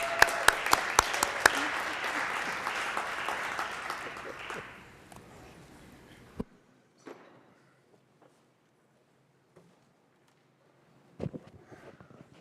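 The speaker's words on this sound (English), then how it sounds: "He enjoys a round of applause as he approaches the podium" A round of audience applause at a school board of education meeting greets a presenter approaching the podium, dense and steady for about five seconds before fading to silence, with a few scattered late claps near the end.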